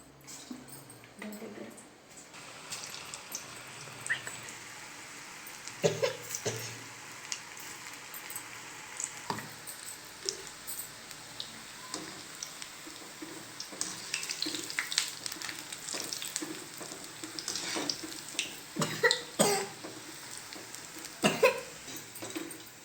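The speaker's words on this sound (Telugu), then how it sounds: "మనం వచ్చేసి ఇప్పుడు పకోడీలు వేసుకుందాం చిన్న చిన్నగా" Small pakoras frying in hot oil, a soft crackling sizzle with scattered clicks and bumps of handling, fairly quiet and close, with some murmured voices in the background.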